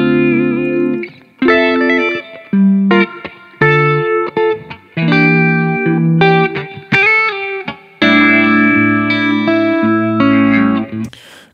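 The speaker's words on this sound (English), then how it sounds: "let's just listen to our original guitar stem here." A clean electric guitar stem plays alone in Ableton Live: loud, sustained chords in phrases separated by brief gaps, with bright ringing harmonics.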